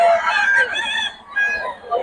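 Fighting roosters crowing close by at a market, with overlapping drawn-out calls, a short pause, then another crow; people talk faintly in the background.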